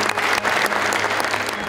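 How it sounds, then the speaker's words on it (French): Audience applause for a medal recipient at a community honours ceremony in Saint-Lambert-de-Lauzon, a dense, steady wash of clapping from a full room, loud and continuous with no pauses. "Veuillez accueillir et applaudir avec moi Madame Anne Quirion."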